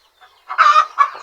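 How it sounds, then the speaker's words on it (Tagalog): Plymouth Rock and Rhode Island chickens clucking close by, a few short loud clucks in quick succession. "Yan mga kabrad yung ating mga alagang manok, napakarami."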